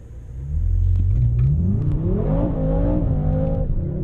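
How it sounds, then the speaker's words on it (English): A 2017 BMW M6 Gran Coupe Competition doing a brake launch, the engine building from a low rumble into a loud, rising rev that climbs through the gears, close and continuous with no talk. "So if I just do a brake launch, I think that might be quicker than the launch control actually."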